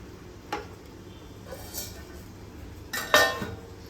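Dishes and cutlery clink faintly as idli with sambar is served for lunch, a few soft, separate clinks spread out, with a brighter cluster of rattling near the end.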